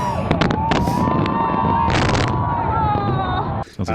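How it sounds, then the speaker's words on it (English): Fireworks bursting loudly and continuously, with several sharp cracks and crackling bursts over a steady roar, heard alone without talk. "We had fireworks."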